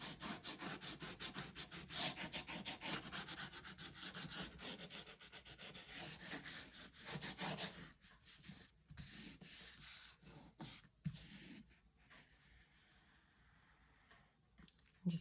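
Matchstick art paper is rubbed flat onto a page in close, dry, scratchy back-and-forth strokes that run steadily, then thin into shorter, fainter rubs, with no speech.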